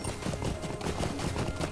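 Rapid, steady clip-clop of horse hooves from the online game Lord of the Rings Online, a continuous galloping rhythm close and loud with no talk over it.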